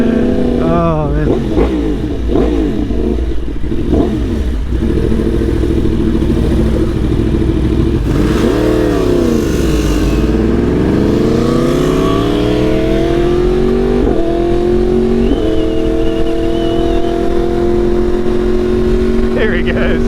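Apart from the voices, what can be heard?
tuned Yamaha R1 Limited Edition motorcycle accelerating, quick shifter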